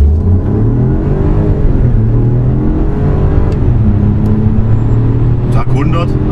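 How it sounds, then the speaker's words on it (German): A BMW X1 xDrive 25e plug-in hybrid accelerating hard from 0 to 100, heard from inside as a loud, steady engine drone and road roar throughout, with a few sharp clicks near the end. "Jetzt machen wir kurz eine Beschleunigung mit dem BMW."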